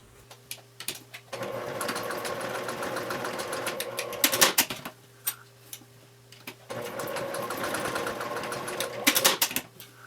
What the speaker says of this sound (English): just as long as you top stitch the end of the strap to itself